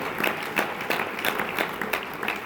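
Church congregation applauding during a sermon, a steady patter of clapping with rhythmic surges, moderately distant and unbroken, no talking over it.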